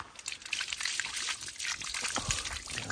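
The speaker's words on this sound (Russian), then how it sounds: "Нужно сполоснуть горной водой." Icy mountain water runs and splashes as sticky hands are rinsed in a mountain village in Uzbekistan, a continuous close trickle and pour with small splashes throughout.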